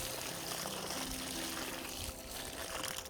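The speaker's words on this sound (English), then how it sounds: "Let's put some water into the hole." Water pours into a planting hole in a garden bed, a soft, steady gurgling stream that runs unbroken and close by, with no voices.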